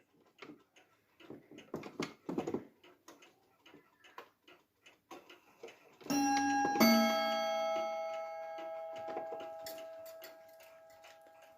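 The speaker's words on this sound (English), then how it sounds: "it strikes on 2 chime rods with bim bam" A 1970s French clock with a Japanese movement ticks softly, then strikes a bim-bam pair on two chime rods, the two bright tones ringing out and slowly fading.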